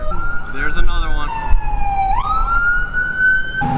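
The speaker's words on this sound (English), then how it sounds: "oh, the siren's going off" Emergency siren wailing in Ocean City, Maryland, its pitch sweeping down then rising again in a long, loud, continuous tone that fills the street.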